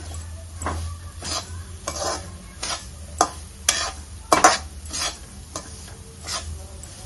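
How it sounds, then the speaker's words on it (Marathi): Lapsi (broken wheat) roasting in ghee and butter over a high flame, with a steady soft sizzle and repeated rhythmic scraping strokes of a spoon stirring through the pan, close by, with a few sharper clinks against the metal. "आता ही लापशी आपली चांगली भाजून घ्यायची तुपामध्ये आणि बटरमध्ये चांगला लालसर कलर येईपर्यंत भाजायची"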